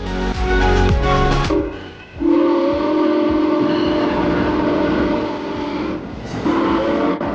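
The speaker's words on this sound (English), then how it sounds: "The train showed up. It's huge." A train rumbles in close by, its horn sounding in long sustained blasts over the rolling clatter of the wagons.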